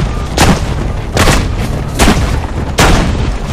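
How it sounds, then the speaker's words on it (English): Enemy gunfire in Assassin's Creed: Brotherhood sounds as four loud, heavy booms, evenly spaced about three-quarters of a second apart, with no talk over them. "He's shooting at me."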